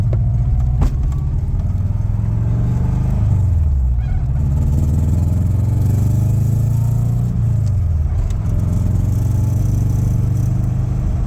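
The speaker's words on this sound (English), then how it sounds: "I push in the clutch and she goes right back to an idle." A 1998 Subaru Impreza engine, recently swapped to a manual, runs loud and steady with its pitch dipping twice as it settles back toward idle, a continuous close rumble with no talking.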